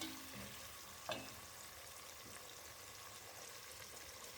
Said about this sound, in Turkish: Biraz bunlar sotelensin